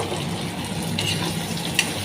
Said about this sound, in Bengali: এগুলো আমি একটু ভালো করে ভেজে নেব।